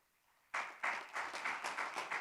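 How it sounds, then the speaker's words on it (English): A small audience at a business session breaks into clapping after a quiet moment, with sparse, uneven hand claps building into a moderate round of applause. "thank you for the clap"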